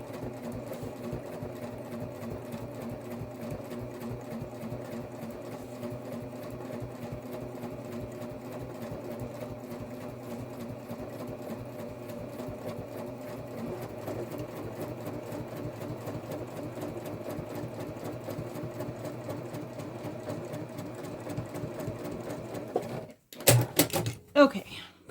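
A sewing machine stitches a messenger bag seam in a long, steady run of rapid needle strokes at moderate closeness, then stops near the end with a few clunks and handling noises; a voice is present.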